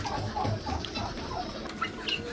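Guinea fowl and other poultry cluck and call in a busy, noisy mix while feeding, with scattered sharper chirps over steady background noise; no talking.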